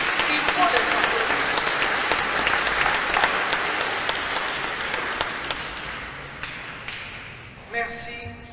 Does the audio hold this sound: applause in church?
yes